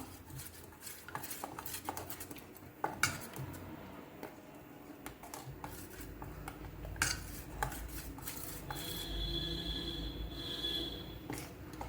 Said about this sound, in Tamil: சேர்த்துட்டு அதை இப்போ நல்லா மிக்ஸ் பண்ணி ஒரு 10 நிமிஷம் ரெஸ்ட் பண்ண விட்டுறலாம்